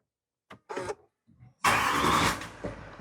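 A Range Rover L405 cranks over in a few short bursts, then catches and fires into a loud, steady run that settles toward idle, close by and alone.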